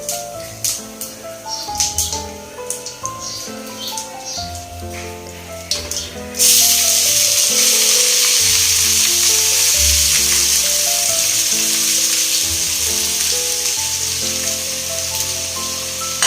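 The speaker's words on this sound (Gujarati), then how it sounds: "તેલ થઈ ગયું છે, હવે આપણે કોબી નાખી દઈએ" Shredded cabbage drops into hot oil with cumin seeds for kobi sabzi, bursting into a loud, steady sizzle partway through that carries on to the end over light background music.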